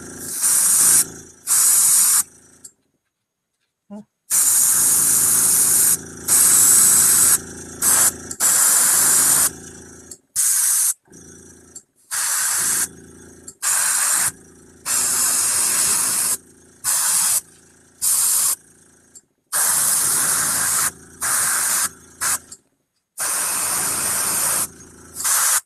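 Zenithal primer sprayed from an airbrush or can onto a Hell Dorado tabletop miniature, close, loud hissing bursts of varying length separated by brief silences.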